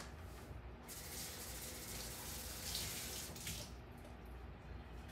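Tap water runs over a lemon at a kitchen sink, a steady hissing splash that shifts slightly as the fruit is turned under the stream, fairly close and without talk.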